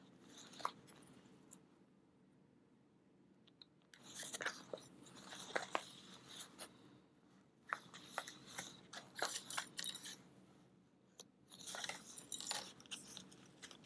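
Scissors snipping lining fabric at close range, a series of soft crisp cuts in irregular bursts after a quiet opening, faint and without talk.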